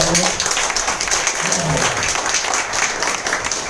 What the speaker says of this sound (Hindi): तीनों के लिए अगेन जोरदार तालियां।